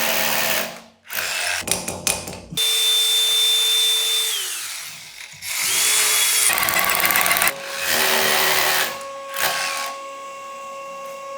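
Power drill with a fresh bit cutting in bursts while a toilet partition pilaster is installed: several loud, close runs with whining pitch changes and short pauses between them.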